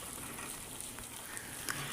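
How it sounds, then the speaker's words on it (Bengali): Two eggs fry in a wok beside fried onions pushed to one side, a faint, soft sizzle with light stirring scrapes, no talking. "কড়াইয়ের এক সাইড করে আমি এতে দুটি ডিম দিয়ে দিলাম"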